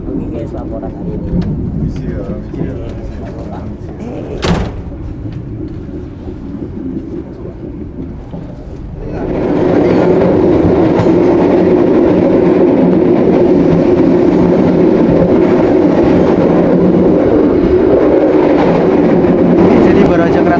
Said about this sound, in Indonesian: baru aja kereta api Pramex berangkat dari stasiun Yogyakarta